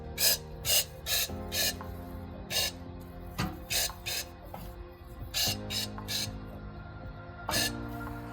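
Repeated short bursts of hissing spray from a powder coating gun on engine mounts, each lasting under a second, over a steady mechanical hum with clicks between bursts.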